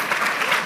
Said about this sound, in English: So can we give her another big clap, please?